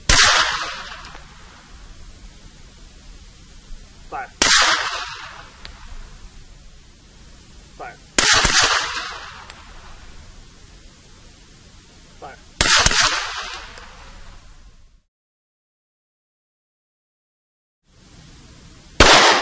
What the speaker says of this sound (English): HK P9S 9mm magazine fed semi-automatic pistol with a sound suppressor